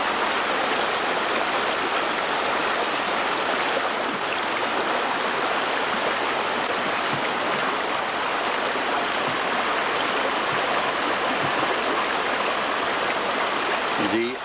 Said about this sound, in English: The upper portion of Rice Creek Falls.